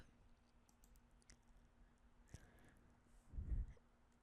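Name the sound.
typing on a computer keyboard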